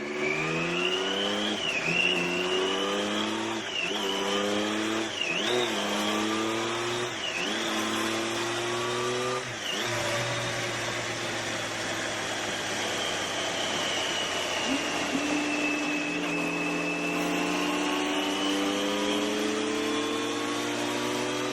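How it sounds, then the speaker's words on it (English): A Triumph Daytona motorcycle runs on a dyno. The engine revs up and drops back in several quick blips before one long sustained pull that winds steadily higher, loud and close throughout. "put the bike on the dyno and find out what the actual back wheel performance is"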